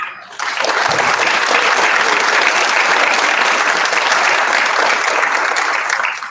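A school district board meeting audience gives a sustained round of applause for 20-year service recipients, steady dense clapping from the start that holds loud throughout before easing slightly at the end.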